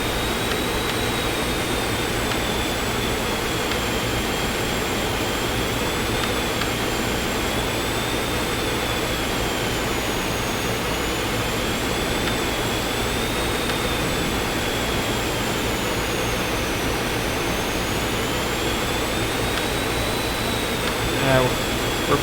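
Jet engines run at full throttle in the X-Plane 11 flight simulator, a steady, loud roar with a whining high tone that slowly wavers in pitch, continuous throughout with no pauses.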